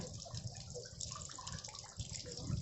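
Large live oysters are rinsed in fresh water at a seafood farm in Chanthaburi, Thailand. Soft, close splashing and sloshing continues quietly and steadily throughout, with faint low knocks of shells.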